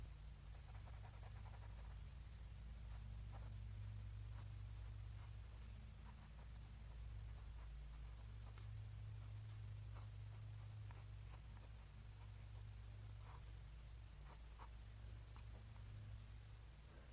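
A Pilot E95S fountain pen with a 14 karat fine nib writing on paper, giving a steady faint scratch of strokes over a constant low hum, with no voices.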